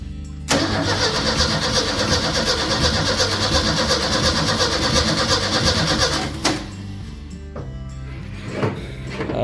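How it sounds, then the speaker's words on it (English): A 1962 Ford F100 that has sat for years cranks on its starter in a first start attempt, a loud steady grinding whir for about six seconds that then cuts off, followed by quieter clicks and handling. "Just gonna touch that to the starter. See if this cheese curd will fire"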